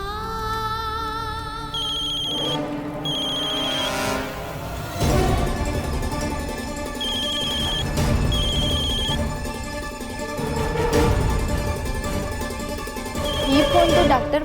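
A mobile phone rings in repeated bursts of a high electronic ringtone over background music and scattered voices in a family drama scene, recurring several times at moderate loudness.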